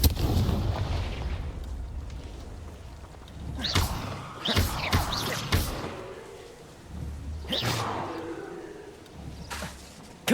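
Confringo exploding spells from the video game Hogwarts Legacy, a cluster of sharp booming blasts in quick succession followed by a later single blast over rumbling game ambience.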